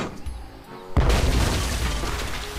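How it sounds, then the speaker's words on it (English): A single heavy boom from a stationary cannon in the video game Tales of Monkey Island erupts about a second in, followed by a sustained rumbling roar that stays loud through the end, with no talk. "Stationary cannon."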